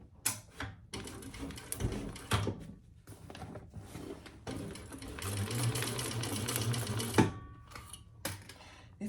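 Freshly rethreaded sewing machine stitching thin, light fabric for a crossbody bag, a close mechanical whir running for several seconds between clunks and handling noises.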